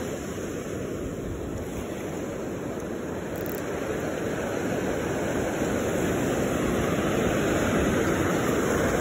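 Strong ocean surf roars steadily at a shoreline fishing spot, a dense continuous wash of breaking waves with wind noise, loud and unbroken throughout.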